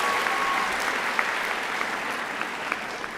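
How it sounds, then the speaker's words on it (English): A crowd claps for a staff member at a 2023 Percy Julian graduation ceremony, dense, even applause filling a short stretch with occasional sharper individual claps. "Can you clap for Mr. Seymour?"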